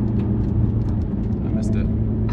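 Nissan R32 GTR engine droning steadily from inside the moving car, a loud continuous rumble with brief voices over it.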